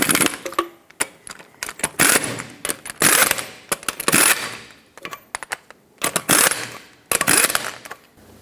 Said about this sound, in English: Start on all 6 of your lug nuts, bottom them out, and torque them to 150 foot-pounds in a cross pattern.